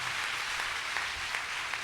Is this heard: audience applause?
yes